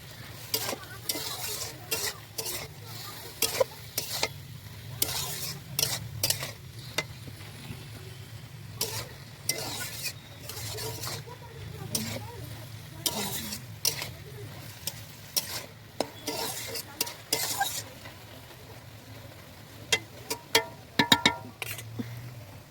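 Small tangra fish stir-fried with cumin powder in a pan, producing a quiet underlying sizzle broken by frequent irregular bursts of spatula scraping and stirring, with occasional metallic clinks, heard up close.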